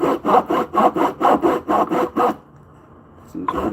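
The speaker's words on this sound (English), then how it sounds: "Back to sawing." A handsaw cuts a wooden 2x4 for a mallet in about nine even back-and-forth strokes, close and loud, then stops into near quiet.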